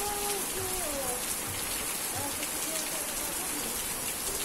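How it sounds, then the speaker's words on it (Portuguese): Heavy rain pours down in the town of Gravatá, a dense, constant hiss of drops striking surfaces. A few thin whistling tones drift faintly over the downpour, with no voices. "A nossa cidade tá chovendo muito."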